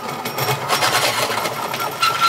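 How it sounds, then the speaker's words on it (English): A wood lathe turning slowly while an auger bit bores into a giant wooden thread spool, giving a steady grinding, rasping whir that stays close and even. "I'm going to put the lathe on at a very slow speed. I'm going to feed in an auger bit"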